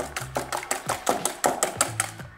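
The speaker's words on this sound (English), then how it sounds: "Whisk those up." Eggs are whisked in a bowl in a home kitchen, a quick even run of sharp clicking taps about five per second, close up and with no talking.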